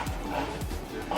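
A dog barks a few times close by indoors, short yips mixed into a person's affectionate talk.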